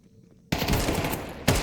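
Rapid gunfire bursts from a Counter-Strike match: after a quiet half-second, a loud sustained volley of shots erupts and runs on, ending with one sharp extra blast.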